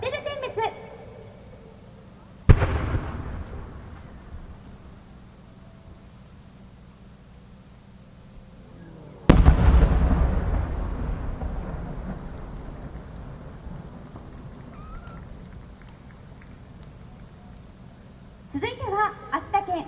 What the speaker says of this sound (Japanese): 新入り割物花火8号玉銀木付き八重新白崎パステル点滅